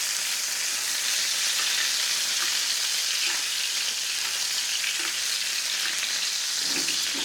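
A NY strip steak basting in mushroom sauce in a cast-iron skillet gives a loud, steady sizzle that hisses continuously from start to finish, close up and with no talking.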